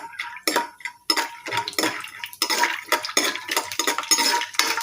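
Peanuts frying in a little oil in a pan for hotel-style raw mango puliyogare, stirred with a spoon: repeated scraping and clinking strokes over a soft sizzle, close and fairly loud.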